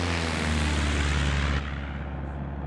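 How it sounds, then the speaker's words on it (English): A simulated Cessna 172 propeller engine from an MSFS 2024 sound pack drones loud and close with a low rhythmic throb, then abruptly drops to a quieter, duller tone partway through. "Can a sound pack really change the feel of the 172?"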